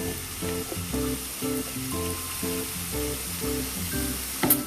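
Bitter melon sizzles loudly as it goes into hot oil in a home kitchen pan. The frying is steady and close throughout, with a faint rhythmic pattern through it and a brief clatter at the end. No talking is heard.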